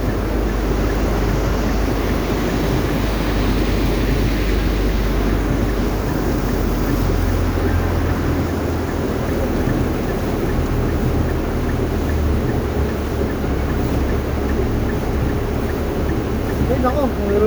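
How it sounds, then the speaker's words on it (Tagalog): Heavy, unbroken rain pours down over floodwater, a loud dense hiss that runs the whole time while people talk over it. "wala talagang tigil yung ulan."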